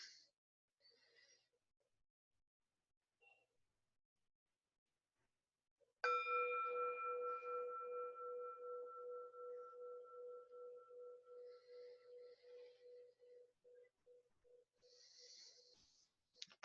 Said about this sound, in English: We'll invite the bell again